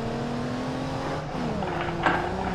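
A car accelerating in BeamNG.drive, its engine droning steadily with a slight pitch shift and a brief scrape or tire noise near the end, loud and close, with no talk.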